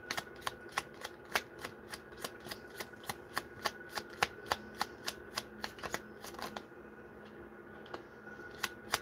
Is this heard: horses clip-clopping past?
no